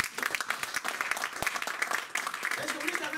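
A church congregation applauds, sustained lively clapping from many hands throughout, fairly close, with voices mingling in the crowd.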